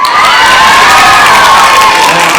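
A school audience at a talent show bursts into loud, sustained cheering and shouting after a K-pop dance performance, with children's high-pitched voices filling the hall throughout.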